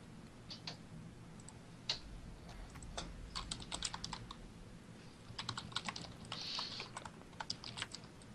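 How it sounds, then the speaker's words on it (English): Someone types on a computer keyboard over an online voice chat during Metal Gear Solid 4 group play, producing faint, irregular bursts of key clicks with short pauses between them. "Someone is typing"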